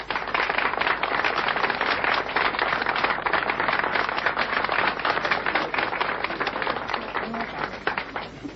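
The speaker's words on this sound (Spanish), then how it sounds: "Gracias por los aplausos" Audience applause at a comedy show, a loud, dense and continuous clapping from a crowd that holds steady for several seconds before easing slightly at the end.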